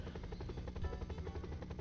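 An MD500 helicopter in the SimCopter video game gives off a fast, pulsing rotor chop over a low engine drone, steady and fairly faint with no voices.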